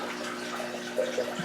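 Water running steadily into an Oscar fish aquarium tank, a continuous close splashing trickle with no pauses.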